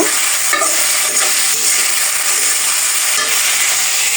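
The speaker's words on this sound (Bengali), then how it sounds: "দিয়ে দিয়েছি আলু আর পেঁপে, একটু লবণ দিয়ে দিয়েছি, একটু ভেজে নেব" Potato and papaya pieces fry with salt in a pan, producing a loud, steady sizzle with a few sharp stirring scrapes, heard up close and alone.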